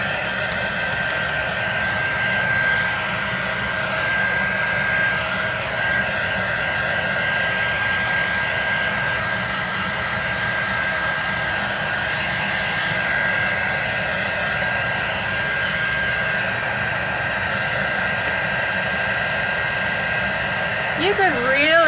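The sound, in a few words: heat tool or dryer drying shaped tape and paper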